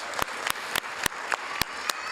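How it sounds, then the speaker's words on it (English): Applause at a city council meeting, heard as a steady wash of clapping with a few sharp, louder claps at regular intervals standing out above it. "let's give our staff a really big round of applause for organizing this"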